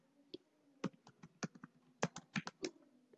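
Code typed on a computer keyboard, a quick irregular run of about fifteen sharp close clicks, quiet and alone without talk.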